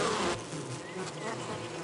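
A honeybee buzzes in flight, a steady close droning hum that holds for about two seconds without any voices, its pitch wavering slightly as it flies erratically.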